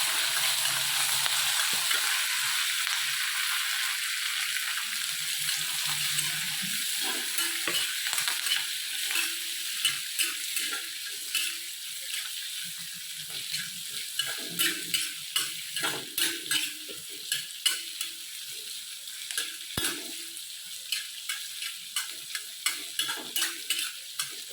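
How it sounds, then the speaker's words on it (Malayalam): Onion and curry leaves sautéing in a pan for an ivy gourd onion curry, a steady close sizzle with stirring scrapes that turn into sharper, rhythmic clinks toward the end, no voices. "ഉള്ളി, കരിവേപ്പില ഇത് രണ്ടും ഇട്ട് കൊടുക്കുക കേട്ടോ. നന്നായിട്ട് വഴറ്റിയെടുക്കണം."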